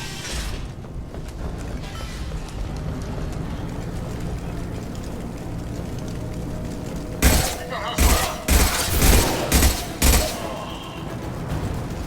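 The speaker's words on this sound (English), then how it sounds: "Blue Suns and Vorcha shooting in from the roofs." Gunfire rings out from rooftops in the video game Mass Effect 2, a dull game ambience giving way to a cluster of loud, close shots and thuds in the latter half.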